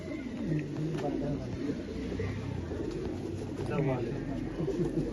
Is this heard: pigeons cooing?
yes